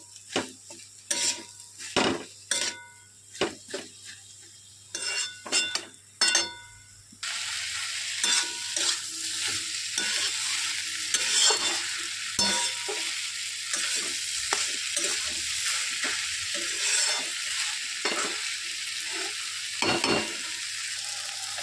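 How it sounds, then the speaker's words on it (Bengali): Food is stirred and mixed in a frying pan on a home stove, with scattered spoon scrapes and metal clinks against the pan at first, then a steady sizzle of frying under continued stirring and occasional knocks. "একটু ভালো করে নাড়াচাড়া দিয়ে মিশিয়ে নিই। মেশানো কষানো একসাথেই হয়ে যাবে।"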